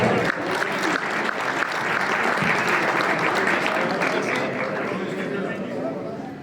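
An audience at a motorsport awards ceremony applauds the 2025 season winners, with loud sustained clapping filling the room and voices mixed into the applause.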